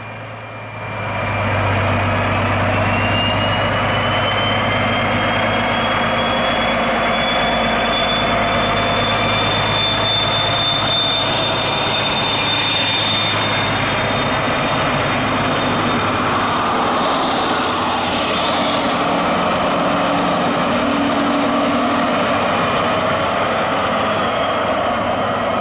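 An IC train at Ulm hauled by two class 218 diesel locomotives gives a loud, sustained diesel roar with rising engine tones as it pulls away, and the noise stays strong throughout.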